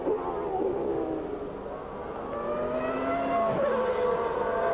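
Formula 1 race cars from the 1994 season pull out of the pit lane during a Saturday session. Their engines make a continuous high whine with rising tones, heard at mid distance over steady track noise.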